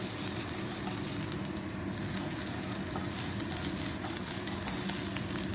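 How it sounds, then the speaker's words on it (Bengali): Chowmein with chutney sizzles and fries in hot oil while being lightly stirred, a steady, close crackling hiss with faint scraping of the utensil, continuous and without talk. "জাস্ট এটাকে হালকা করে এইভাবে জাস্ট একটু নাড়িয়ে নেবো তেলের মধ্যে"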